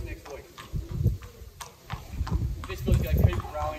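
A filly's hooves clip-clop on the ground as she walks, a steady uneven rhythm of close, moderately loud hoof strikes with people talking over them.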